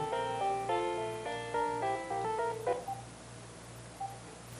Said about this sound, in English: It's our phone, somebody's calling in.